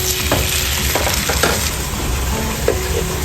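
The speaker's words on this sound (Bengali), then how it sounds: "তুলে নিয়ে অমলেটটাকে ভেজে নেব।" Omelette frying in a pan over low heat, a steady sizzle with scattered crackles and a few soft stirring scrapes and clicks, close and continuous, with no voices.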